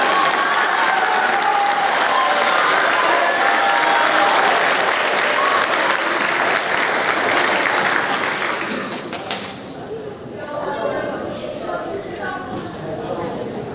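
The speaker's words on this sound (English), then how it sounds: "One more round of applause, please." An audience at an 8th grade awards ceremony gives a sustained round of applause for about nine seconds, then it dies down and leaves voices murmuring in the room.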